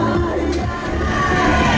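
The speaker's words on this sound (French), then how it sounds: "on lui donne une bonne main d'applaudissement." A rodeo grandstand crowd at a women's barrel racing event in St-Gabriel-de-Rimouski cheers and applauds. The sound is a brief, steady wash of noise from many people.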